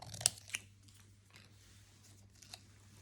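Scissors cutting a paper label for bookbinding, two crisp snips close together at the start and a faint third cut later, all quiet against a near-silent room.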